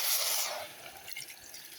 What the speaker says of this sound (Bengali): ভাজাভুজি হয়ে গেছে, এখন জল দিয়ে দেবো।